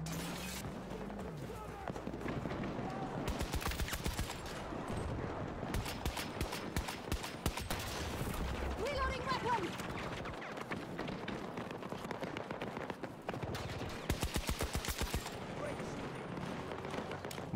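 Bursts of automatic gunfire in a Battlefield 2042 match on the Hourglass map, rapid close shots in dense clusters over game ambience, with someone talking over much of it.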